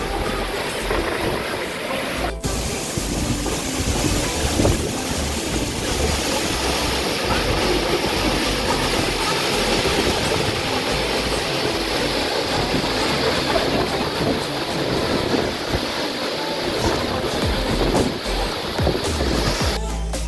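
Constant roaring rush of falling water, broad and steady, filling the whole stretch with a dull churning texture.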